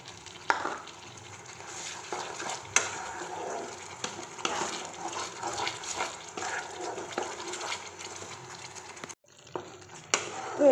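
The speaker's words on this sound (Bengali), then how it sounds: "আর যে গরম মশলাটা বেটে রেখেছিলাম সেটা দিয়ে দেবো" Ground garam masala paste being stirred into chicken chaap frying in oil, a continuous sizzle broken by scraping stirs and clicks of a spoon against the pan, briefly dropping near the end before resuming.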